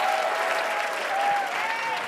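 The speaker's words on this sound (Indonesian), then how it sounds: "tepuk tangan untuk Givania ya" Applause from a studio audience at a knockout round of The Voice Indonesia, a brief, dense, steady burst of clapping heard at moderate volume.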